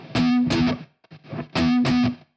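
Distorted chords on a Kiesel electric guitar strummed in two bursts with a short gap, ringing with a roomy amp reverb tail that fades out at the end.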